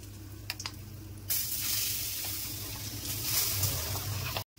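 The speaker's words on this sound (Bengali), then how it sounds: "কড়াইতে কালো জিরে ফোড়ন দিয়ে দিচ্ছি আর একটু হিং ফোড়ন দিচ্ছি। এবার ডালটা দিয়ে দেব।" Nigella seeds and asafoetida sizzle in hot oil in a wok for Bengali dal dhoka, then ground chana and matar lentil paste goes in; a loud, steady sizzle starts abruptly after a quiet moment and holds evenly to the end.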